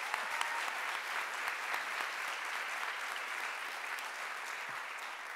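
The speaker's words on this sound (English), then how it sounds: "let's still applaud Dr. Beth Cada." Applause from a university convocation audience fills the hall as a continuous, evenly textured clatter of many hands, moderately distant and steady throughout.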